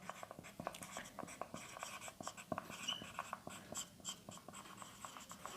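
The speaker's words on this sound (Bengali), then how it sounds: "এখানে লিখছি আমি অ্যান্সার" Pen or pencil scratches on paper as answers to periodic table problems are written out by hand, a faint, busy run of small strokes and taps with no talk.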